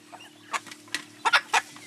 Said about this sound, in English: See, this is the mother of all the chicken with the short legs.